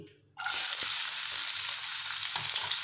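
Chopped onion drops into hot oil in a wok after a brief quiet moment, setting off a sudden, loud, close sizzle that keeps hissing steadily with a few faint clicks.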